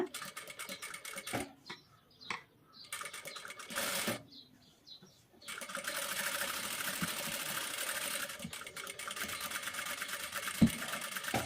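A sewing machine stitches along the edge of a blouse back part in short bursts at first, then hums in one steady, quiet run, with faint clicks near the end.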